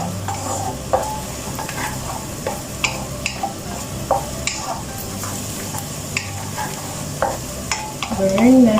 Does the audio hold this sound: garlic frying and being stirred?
yes